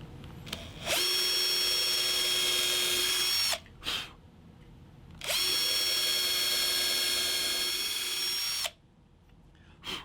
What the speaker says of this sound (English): So I'll just pilot each of these holes and then countersink after.